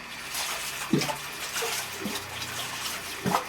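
Water runs steadily from an electric water pump motor, a continuous broadband rushing that holds steady throughout, with a few brief splashy bursts and knocks breaking through.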